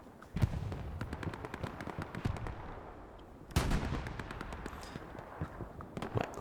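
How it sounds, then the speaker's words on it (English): Artillery fire in Hell Let Loose on the Utah Beach map during a competitive match: repeated heavy booms and rolling gunfire, with a big loud blast midway followed by more distant rumbling shots. "You can see Lucky, he's pushing it to the limit right there on his artillery."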